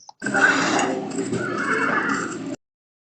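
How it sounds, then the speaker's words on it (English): One long, loud whinny from a nearby horse lasts a couple of seconds, then cuts to silence. "Hear that? It sounds like horse."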